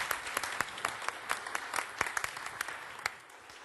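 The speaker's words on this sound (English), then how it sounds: "A warm round of applause, please," A conference audience claps for a keynote speaker on brand protection, a short burst of scattered, crisp applause from a room of moderate size that thins out toward the end.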